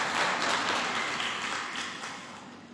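A seated audience at an International Women's Day event gives a round of applause, a steady wash of many hands clapping at moderate distance that slowly fades out.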